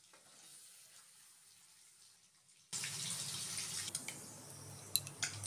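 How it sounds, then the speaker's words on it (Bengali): Paneer frying lightly in a pan, a quiet hiss at first that jumps to a louder, continuous sizzle with a few sharp crackles and pops. "হালকা করেই পনিরটা ভাজবো আমি।"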